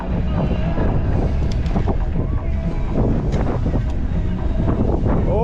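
Strong wind buffets the microphone outdoors on a Crimean coastal route, a constant loud roaring rumble with gusty fluctuations throughout and no clear talk.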